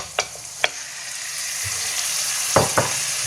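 Onions and spices fry in a pan under a steady, close hiss, punctuated by several quick scraping stirs of a utensil against the pan.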